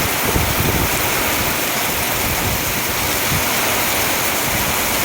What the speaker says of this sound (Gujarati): અહીંયાથી પાણી બધું ખાડી તરફ જાય છે.